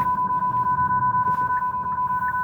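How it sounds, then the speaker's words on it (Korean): A Hyundai Santa Fe facelift SUV sounds its forward collision warning during hard braking, a loud, rapid series of identical electronic beeps repeating evenly over low road and cabin rumble. "전방 추돌 경고가 뜨면서 좀 경고음이 크게 울렸죠"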